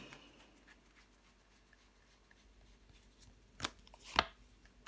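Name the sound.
tarot card being laid down on the table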